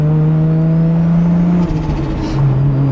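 A Toyota Supra MK4 engine revs with a strong steady drone that suddenly drops in pitch and settles, loud and close, with no talking.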